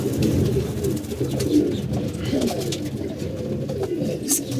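Many pigeons coo in overlapping low, throaty murmurs, a steady close chorus throughout with no pauses.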